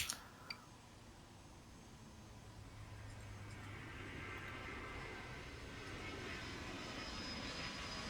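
An airplane in the airport management game Airport CEO rumbles with a broad, steady engine roar that swells slightly after a couple of sharp clicks at the start, holding at a moderate distance with no voices.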